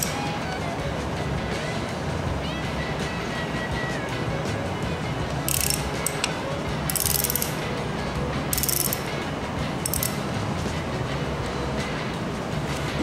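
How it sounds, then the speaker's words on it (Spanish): A ratchet clicks in several short bursts as screws come out of an Italika AT 110 LT motorcycle engine during an oil change, heard against a steady background hum with no voices. "vamos a proceder a quitar los tornillos"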